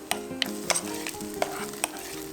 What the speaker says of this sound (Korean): 햄을 먼저 볶아주세요.